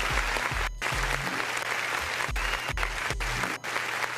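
Loud, sustained clapping sound effect in a comedic rant setting, a dense continuous wash of claps with brief dips, close and unbroken for about four seconds with no talk over it.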